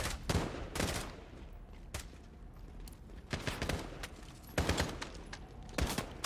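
Gunfire in Call of Duty Modern Warfare gameplay: several separate bursts of shots with short gaps between them, crisp and fairly close, over a low background rumble, with no voices.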